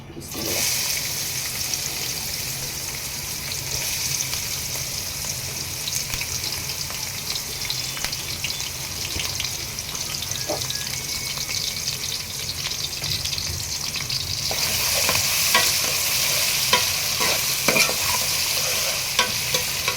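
Onions frying in oil in a wok (kadai) on a lit stove before chicken is cooked, a loud continuous sizzle with constant stirring scrapes, growing harsher and brighter toward the end, close with no speech.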